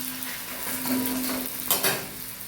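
Wheat adai fries on a hot pan with a steady, close sizzle, joined by a few brief scraping sounds from stirring or a spatula near the end. Nobody speaks.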